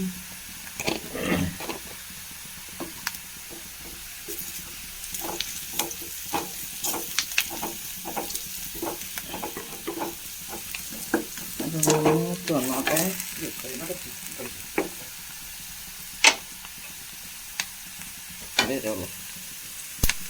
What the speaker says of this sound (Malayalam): അപ്പോൾ ഉള്ളി മുളകൊക്കെ നന്നായി മൂത്തിട്ടുണ്ട്